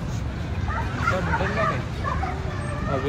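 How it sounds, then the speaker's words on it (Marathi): Injured dog yelping and whimpering after being struck by a vehicle on a roadside stop near Lonavala, repeated high cries over a steady bed of crowd chatter and traffic noise. "अबे कुत्रा आलं बे खाली. गाडी खाली कुत्रा आलं."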